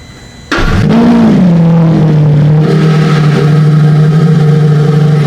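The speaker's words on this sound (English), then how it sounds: "Listen to the cold start of the V12." A Lamborghini Revuelto V12 engine cold-starts, cranking and bursting into life loudly, flaring briefly before settling into a steady, deep, rumbling idle close by.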